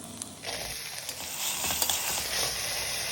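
Onion, ginger and peas sautéing in a pan for tomato rice, with a soft, continuous sizzle and occasional scraping and clinking of a utensil stirring, fairly close, with no speech.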